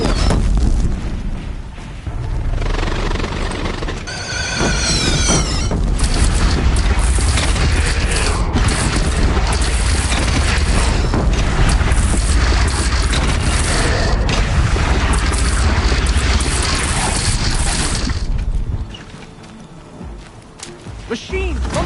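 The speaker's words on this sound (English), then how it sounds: "Take up a cannon! On the platform!" Heavy cannon fire booms in the Horizon Zero Dawn game battle, a dense, sustained roar of blasts and rumbling impacts with shouted voices mixed in, easing off near the end.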